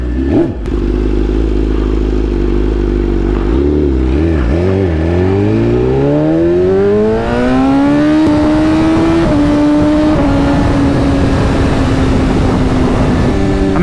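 Motorcycle pulls away loud and close, engine climbing steadily in pitch through several gear changes as it accelerates, with no talk over it.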